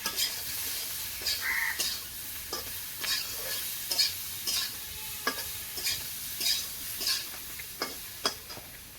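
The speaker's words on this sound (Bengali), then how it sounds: "এটা দিয়ে কিন্তু একসঙ্গে সুন্দর করে কিন্তু ভেজে নেবো।" Sliced eggplant, cut into long strips, fries in a pan for a village-style small-fish curry, with a steady background sizzle and repeated sharp clicks of stirring against the pan. No one talks.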